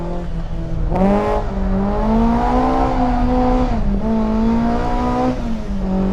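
A Redux BMW E30 M3 restomod engine revs hard and holds a strained, steady note while the car slides, with tire squeal rising under the engine, close and loud throughout.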